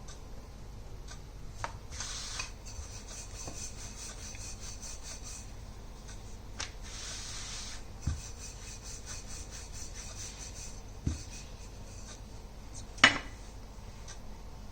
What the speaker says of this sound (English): Now take little dry flour and roll it over the pin, rolling pin.